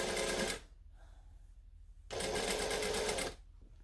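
A sewing machine stitches a short seam in two close, steady bursts of fast whirring, separated by a brief quiet pause.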